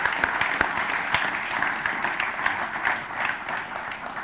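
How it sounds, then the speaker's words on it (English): An audience at a robotics talk applauds with a steady wash of clapping and scattered sharper claps, moderately distant and fading slightly. "can you give a big round of applause to our two speakers?"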